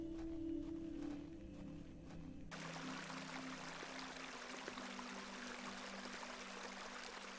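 Water pours in the point-and-click adventure game Hob's Barrow, a steady stream starting abruptly partway through and running on continuously after a quieter tonal stretch.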